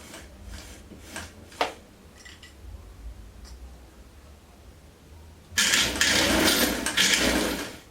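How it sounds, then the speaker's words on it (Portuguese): A domestic sewing machine set to zigzag stitch, used for sewing a jumpsuit, runs in a loud whirring burst near the end. Before that come a few faint clicks and light handling noises. "Eu vou colocar aqui no zigue-zague, porque eu vou fazer uma viradinha, então nem vai aparecer."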